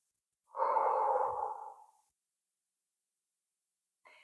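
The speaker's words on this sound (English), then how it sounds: "just breathe in. And as you breathe out" A single slow, steady breath during a calming relaxation exercise, drawn in and eased out close to the microphone over about a second and a half, followed by silence.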